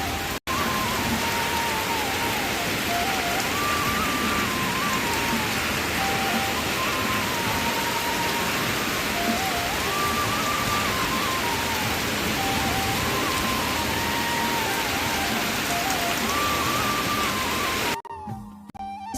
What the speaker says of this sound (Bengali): এখানে বৃষ্টি নেমেছে